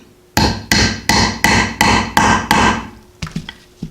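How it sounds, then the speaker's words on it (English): Six loud, evenly spaced metal hammer blows set a snap fastener with a hammer tool, each a sharp crack with a short ringing decay, followed by a few quicker, lighter taps. "I'm going to take my hammer tool right here, press it on top of that,"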